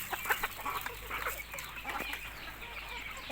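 Pet chickens and chicks cluck and peep in a quiet farmyard, with soft, irregular calls and a few wing rustles, fairly faint and with no talk.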